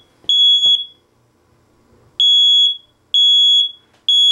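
Retired, broken smoke detector sounding in a shop: piercing high electronic beeps in short pulsed bursts, a pair at first, then a pause, then repeated triplets of loud shrill chirps, close by with faint clatter between.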